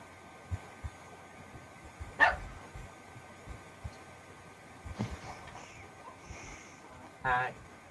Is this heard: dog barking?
yes